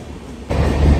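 Heard from inside a Dibrugarh Rajdhani Express 2AC coach, another train passes near Chandranagar halt: a steady low rumble that jumps abruptly into a loud, dense roar as the passing train arrives close alongside.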